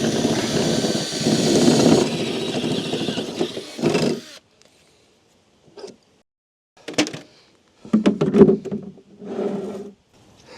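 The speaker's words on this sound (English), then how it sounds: "and we drill the second one." A power drill whirs in a sustained burst, then fires in several short bursts separated by brief silences.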